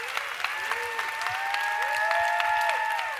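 Large church congregation at a Next Gen service applauding: dense, continuous clapping that fills the room, steady and moderately loud, with a sustained tonal hum running underneath.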